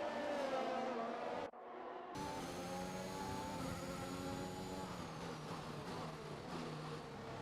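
Formula 1 race cars in the F1 2021 video game at the Belgian Grand Prix, engines screaming at high revs with steady harmonic whine and gear-shift dips, a brief cut to near silence early on, then continuous loud engine tone.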